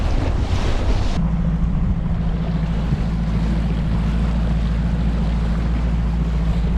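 Strong gusts of 30+ mph wind on Lake Palestine, Texas, roar across the microphone beside a fishing boat. Heavy buffeting rumble and lapping water continue steadily throughout, loud and close, with no talking.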